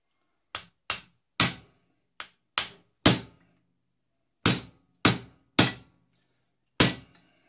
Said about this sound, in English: favourite tool, a hammer